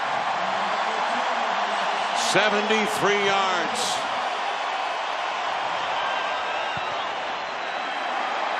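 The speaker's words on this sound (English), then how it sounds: "Listen to the crowd." Roaring football stadium crowd at a college game between Colorado and Oregon cheers after a 73-yard touchdown run, a continuous loud wash of noise under an announcer's commentary throughout.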